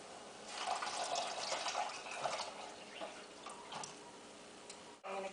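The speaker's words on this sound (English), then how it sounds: "And I'm going to add the 3 cups of water and bring it to a boil again." Three cups of water are poured into a pot holding red reishi mushrooms for tea, making a steady, hissing splash that runs for several seconds before stopping abruptly near the end.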